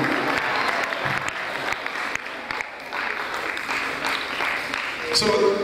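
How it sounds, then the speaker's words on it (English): Applause from an audience in a dome hall, a continuous clatter of many hands clapping at moderate loudness, with a voice and scattered crowd noise underneath. "You can clap for me."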